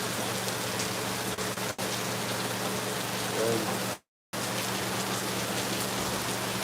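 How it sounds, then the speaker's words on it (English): Heavy rain pours steadily in Lagos, a dense, loud hiss of drops on surfaces that continues without a break apart from one brief dropout. "this rain is not ready to stop"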